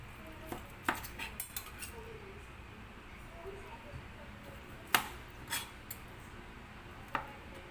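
A metal fork scraping and tapping against a plate while cutting hot cooked meat into small cubes for Goan sorpotel, giving several sharp clinks spread over a quiet background.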